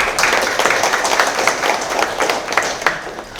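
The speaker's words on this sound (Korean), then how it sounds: "큰 박수를 부탁드립니다" Steady, fairly loud applause from a seated audience at a city mayor's press conference in Anseong, a continuous rattle of many hands clapping for a few seconds.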